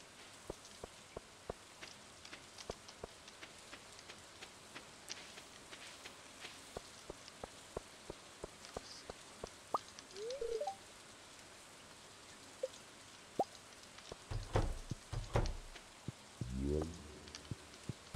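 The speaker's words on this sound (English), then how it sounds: "And it's raining, nice." Steady rain falls in the Stardew Valley farming game, a soft continuous patter with scattered sharper drops, joined later by brief game sound effects and short rising chimes.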